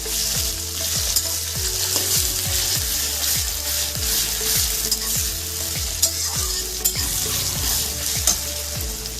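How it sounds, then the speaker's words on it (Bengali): Onions frying in oil with cumin and bay leaf, stirred steadily: a constant close sizzle with rhythmic spatula scrapes roughly once a second, and no voices. "পেঁয়াজটা দেওয়ার পরে হালকা করে পেঁয়াজটা নাড়তে থাকবো আমরা।"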